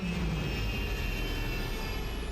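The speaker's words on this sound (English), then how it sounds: "Okay, that was noisy for a very small spaceship." Engines of the small Pisces C8X spaceship in the game Star Citizen, a loud, steady jet-like roar with a broad rushing hiss and a faint high whine, continuous and close.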